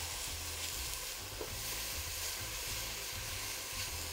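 Oil sizzles steadily in a pot while making Colombian beef rib sancocho, a continuous even frying hiss with no talking.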